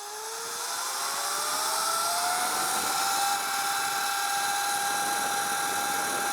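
A KO Moto Sur Ron Light Bee electric dirt bike ridden around an airport, its motor giving a steady high whine that rises in pitch as it speeds up, with continuous wind and road noise.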